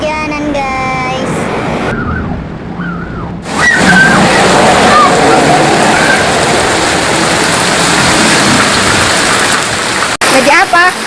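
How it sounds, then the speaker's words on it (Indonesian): Rain falls outdoors while children play in it, a loud continuous hiss and splatter close by, with excited voices talking and shouting over the downpour. "masih lagi hujan-hujanan guys."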